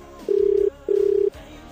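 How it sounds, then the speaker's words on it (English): A telephone ringback tone on a call to the Air Force, two steady electronic rings in a double pulse, each about half a second, loud and clear with no talk. "So I thought I'd phone the Air Force."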